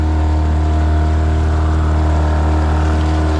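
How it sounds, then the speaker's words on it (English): A motorboat engine idles out at sea, a steady low droning hum with strong harmonic tones that holds loud and unbroken throughout, no voices present. "it sounds like the motor's only idling to me"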